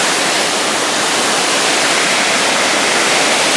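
Forceful river water pouring over a weir in Würzburg, Germany, a loud, steady broadband roar that stays constant throughout with no voices.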